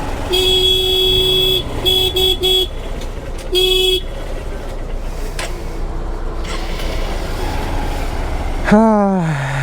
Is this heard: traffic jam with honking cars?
yes